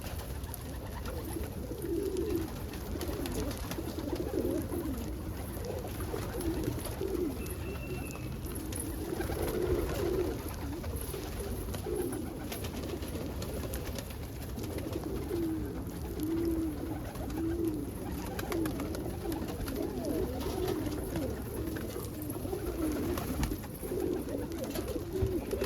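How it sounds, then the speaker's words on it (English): Pet pigeons or doves in a loft coo steadily and softly throughout, a continuous layered murmur of overlapping calls with light movement noise and no talking. "And birds in the other loft are anxious too"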